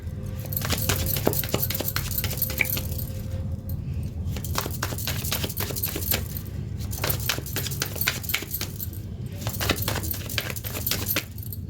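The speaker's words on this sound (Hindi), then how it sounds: "जब तक हम कार्ड शफल कर रहे हैं" Tarot cards being shuffled by hand: a long run of quick, crisp papery snaps and flicks in bursts with short pauses, close and fairly loud over a low steady background hum.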